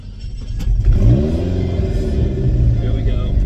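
A modified 1998 Lotus Esprit V8 twin turbo starts, a loud rumbling catch and rev up close, then settles into a lumpy, throbbing idle, with a voice talking over it.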